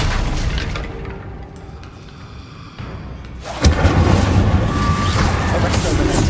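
An Incendio fire spell cast in Hogwarts Legacy, heard as a sudden loud whooshing burst of flame that follows a quieter stretch and then roars on steadily to the end.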